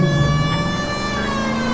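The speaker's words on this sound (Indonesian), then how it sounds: "Kita nyalain lagi sirine." A steady electronic police car siren in the video game L.A. Noire wails continuously with a rising and falling pitch, loud and close, over a low engine-like hum.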